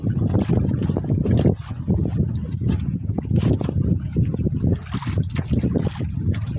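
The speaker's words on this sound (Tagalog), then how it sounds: "Ay, malakas ng hangin." Strong wind gusts across a fishing boat at sea, producing a loud, rough, buffeting roar that rises and falls in uneven bursts close to the microphone.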